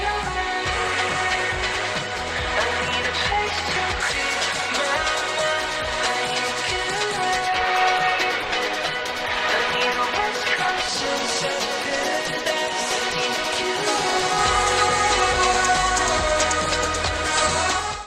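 A full-band song with reverb and a prominent bass guitar plays continuously and densely through Razer Hammerhead True Wireless earbuds set to a custom EQ. The mix stays steady and fairly loud throughout.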